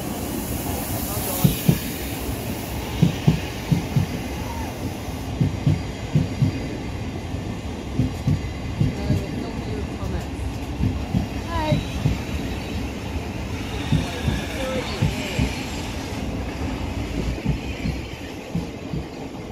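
A train passing through Hampton station, a steady rumble with rhythmic clacks of wheels over rail joints repeating throughout, fairly close, with people talking over it.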